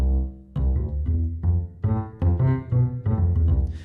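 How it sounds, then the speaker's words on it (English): A Cuba bass synth plays a run of deep, rounded, sustained notes in a steady rhythm, each note starting with a clear attack, loud and close with nothing else playing. "So the Cuba bass sounds like this"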